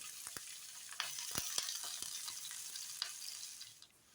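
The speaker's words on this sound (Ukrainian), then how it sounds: "На одну сковорідку викладаю нарізану цибулю." Steady hiss of chopped onions frying in hot oil in a pan, with scattered sharp crackles and pops throughout, close by and fairly quiet.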